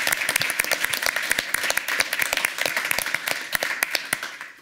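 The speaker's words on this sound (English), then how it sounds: "Let's conclude with a big round of applause for everyone." Applause from an audience closing a panel event, a steady dense patter of many hands clapping with sharp individual claps standing out, fairly close and continuous throughout.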